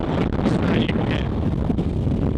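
Strong wind buffeting the microphone at the Steep Point lookout above the Indian Ocean, a continuous loud roar with gusty swells and no speech over it.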